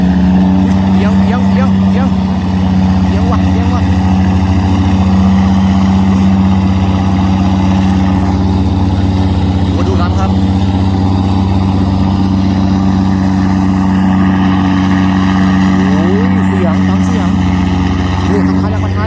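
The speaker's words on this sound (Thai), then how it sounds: "เสียงท่อเดินตรงนะ" A towing boat's engine with a straight exhaust pipe drones loud and steady while hauling against the current in flood season, its low rumble continuous throughout as someone talks over it.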